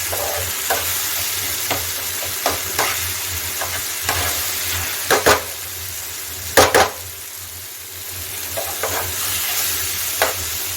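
A spoon stirs Tata Sampann paneer masala powder into a mixture in a frying pan, giving a steady soft sizzle under repeated sharp scraping and tapping strokes against the pan.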